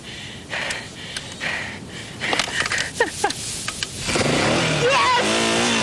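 Motorcycle engine being started, with heavy breathing and gasps leading into sputters, then the engine catching and revving up near the end.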